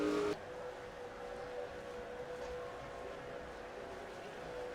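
Race cars in a NASCAR racing video game rolling as a field through turns three and four, a steady droning engine hum at moderate distance after a brief louder opening sound.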